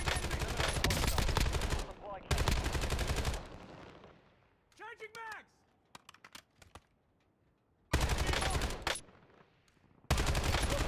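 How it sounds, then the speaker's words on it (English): An AK rifle fitted with a recoil stabilization stock fires in a video game: loud, rapid automatic bursts at the start and end, with scattered single shots and quieter pauses between them. "you're not normally shooting the AK like this"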